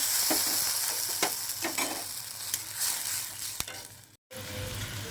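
Maggi noodles stirred in a frying pan with a steady sizzle, a few sharp utensil clicks scattered through it and a brief dropout near the end, no voices.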